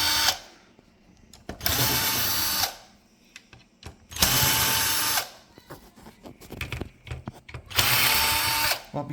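Power drill backing four screws out of the metal plate over the heater on a Beko coffee machine, in three loud whirring bursts of about a second each, with quieter clicks and handling noise between them.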